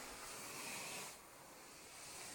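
A Dupray NEAT steam cleaner hisses steadily and softly as it works over a rough, stained carpet, the broadband rush dipping slightly partway through, with no voices.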